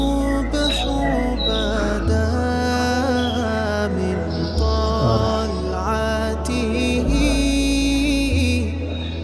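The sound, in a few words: recorded birds chirping from loudspeakers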